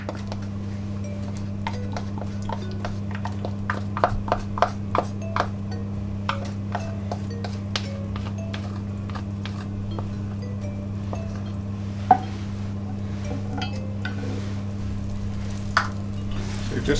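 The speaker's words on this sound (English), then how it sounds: "It's medium to high heat, and we're going to put our butter into that." Butter melts and sizzles in a pan over medium-high heat for caramel apple pork chops, a soft close crackle with frequent light clicks and utensil taps over a steady low electrical hum.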